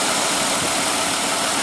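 A 2014 Dodge Durango's 3.6-liter V6 idles just after start-up, giving a steady, close, even rumble that holds without change and with no voices over it.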